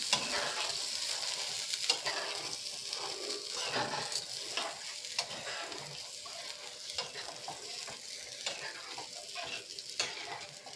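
Katla fish curry is stirred in a pan after half a bowl of water goes in, a busy close sizzle with repeated scraping and stirring strokes running throughout.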